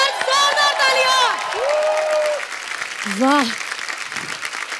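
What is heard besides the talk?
studio audience applause and cheering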